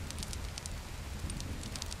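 Steady rain falls in the horror video game Shame Legacy, set in an abandoned cult village, a dense, even hiss and patter with a low rumble underneath and no voices over it.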